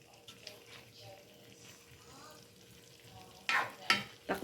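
Menudo stirred in a cooking pot, a soft simmering sizzle with scraping spoon strokes that grow louder and sharper toward the end, with people talking faintly underneath.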